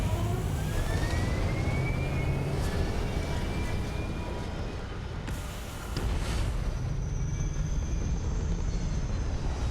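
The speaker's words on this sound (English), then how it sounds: "thrusters firing." Spaceship thrusters firing in the Starfield video game, a loud continuous roaring rumble with a rising whine, holding steady throughout.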